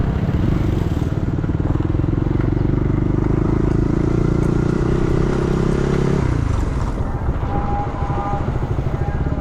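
Close, continuous engine drone of a motorbike cruising along a road, with wind noise and rattle, the engine pitch dropping partway through as the rider eases off.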